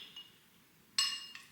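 Two glasses clink together in a toast, a bright ringing chime with a second lighter tap just after, close and alone in a quiet kitchen.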